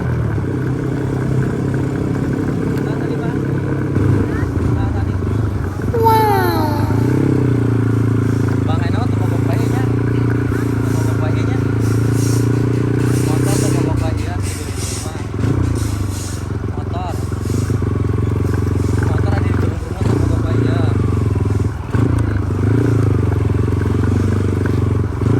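A motorcycle engine drones steadily with occasional clatter as the bike rides over a bumpy road through a hidden village among rice fields, while someone talks over it throughout.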